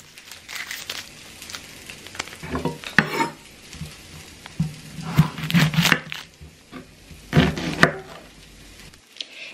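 Big vine tomatoes char in a hot pan with a low, steady sizzle, overlaid by a run of close, sharp knocks and scrapes from kitchen work nearby; no one speaks.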